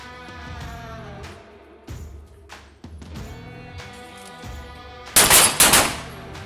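Gunfire at a law enforcement training camp shooting range: several sharp, echoing shots spaced out at a steady pace, then a louder close pair of cracks near the end, with no talk.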